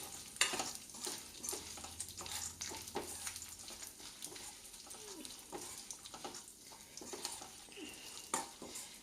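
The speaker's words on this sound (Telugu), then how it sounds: "సన్ఫ్లవర్ సీడ్స్ వేసుకుని ఒకసారి వేపుకోవాలండి." Sunflower seeds being dry-roasted in a pan while making a dry fruit laddu, giving a soft, steady scraping and rustling of seeds stirred over the heat with scattered crackles, moderately close and without talk.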